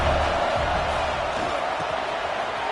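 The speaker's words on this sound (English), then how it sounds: "This crowd bringing the energy and noise early." Football stadium crowd at a Miami vs NC State game roars in a dense, steady wall of cheering and noise that stays loud and unbroken throughout, with no clear voices standing out.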